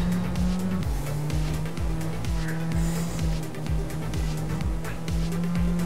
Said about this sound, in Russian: Тихо работает Лада Гранта. Очень тихо, но зато переключает она от души.